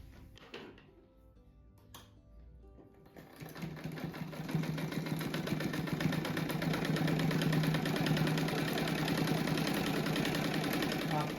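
An overlock sewing machine runs steadily as it stitches a seam on fabric scraps for a pillowcase, starting after a few quiet handling noises and holding a loud, fast mechanical whir to the end.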